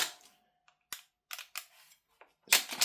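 GunsModify HK416A5 airsoft rifle with an MWS magazine firing on semi-auto: several sharp, separate shots at an uneven pace, with mechanical clacks between them and a louder burst at the end.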